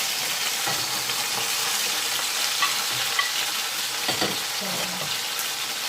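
Garlic and tomatoes fry in olive oil in a pan, giving a continuous bright sizzle with occasional stirring knocks and scrapes close by.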